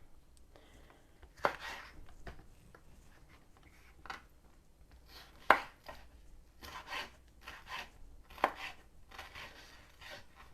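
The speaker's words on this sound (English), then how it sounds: "Now I'm just cutting these in some really thin strips." A kitchen knife slicing beef into thin strips for Philly cheesesteaks, faint irregular taps of the blade on the cutting board with soft scraping between them, a few sharper knocks standing out in a quiet room.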